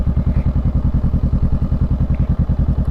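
A motorcycle engine idles while the bike creeps forward on its own, heard as a loud, close, steady low thumping pulse of rapid even beats, with no voices over it.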